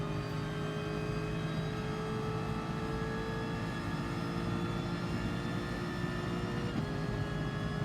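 Racing car engine lapping Suzuka in Gran Turismo Sport, a steady droning whine held at high revs throughout, with a slight dip and recovery near the end as the throttle lifts.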